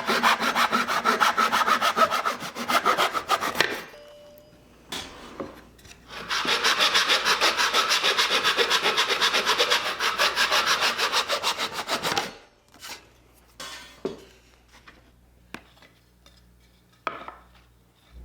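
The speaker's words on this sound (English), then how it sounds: "I'll start by cutting a few lengths of walnut and maple that will be glued together to make wider panels." A saw cuts lengths of walnut and maple in close, steady rasping strokes, two long bursts separated by pauses, followed by scattered knocks and scrapes of wood being handled.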